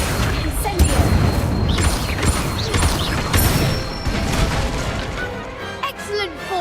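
Bursts, whooshes and crackling impacts of Incendio spells cast in Hogwarts Legacy, dense and repeated, with speech mixed in among the effects.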